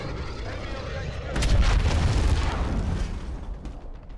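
Cruise missile blast in Modern Warfare multiplayer, a heavy low boom that swells suddenly over constant game noise and rumbles away slowly.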